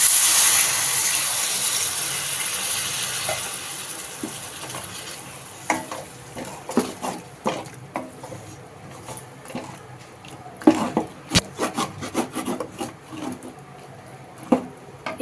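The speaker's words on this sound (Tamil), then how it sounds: "இப்போ வந்து இது தண்ணி சேர்த்து நம்ம மிக்ஸ் பண்ணணும்." Chicken kulambu with chilli powder and water being stirred in a pan, an initial hiss of sizzling fading into irregular close scraping and knocking strokes of a spoon against the pot.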